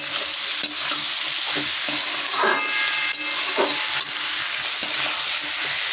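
Fish laid over tomatoes cook in a pan on a low gas flame, giving a continuous soft sizzle broken by a few light scraping and stirring clicks.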